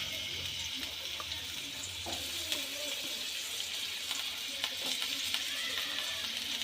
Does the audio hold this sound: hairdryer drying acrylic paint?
no